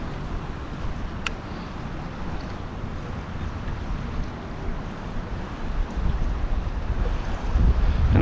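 Steady wind buffeting a kayak drifting near mangroves, a continuous low rushing roar with microphone wind noise that swells louder toward the end, no voices.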